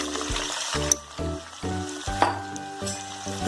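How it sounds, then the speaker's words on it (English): Chopped onion sizzling in hot oil in a pan while making gravy for mutton kofta curry, loud close frying with a crackling hiss and stirring scrapes that come in repeated bursts. "Now the oil is hot. Now we will fry onion."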